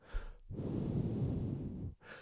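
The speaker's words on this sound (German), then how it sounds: "gleiches gilt auch für direktes Atmen auf das Mikrofon" Close breath pushed straight into a Logitech Blue Sona dynamic XLR broadcast microphone, one long steady exhale of about 1.5 seconds, softened and low, framed by brief quiet gaps.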